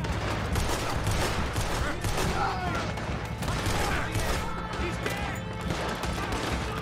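Steady, dense gunfire fills a shootout in Red Dead Redemption II, continuous cracking shots over a constant battle din, with faint voices mixed into the clamor.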